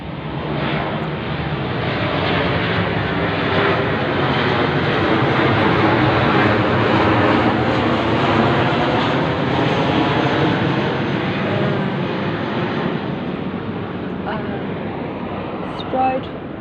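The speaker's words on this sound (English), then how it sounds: "These planes just happen to go straight over my head wherever I go in this suburb." An airplane passes overhead in a suburb at night, its engine a broad, steady roar that swells gradually and stays loud for the whole stretch.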